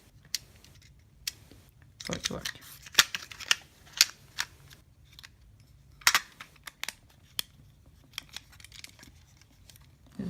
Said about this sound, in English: if you don't have film in it, it will just keep winding without locking shutter